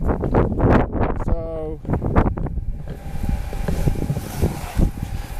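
Wind blows across an outdoor fire-lighting spot. After a few seconds of someone talking, a rough, gusty rumble of wind buffets the microphone and keeps going steadily.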